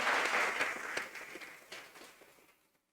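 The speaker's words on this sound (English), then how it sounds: "Let us give a good clap." Audience members at a children's inter-parish speech competition clap, a brisk round of many hands that gradually thins and dies away into quiet.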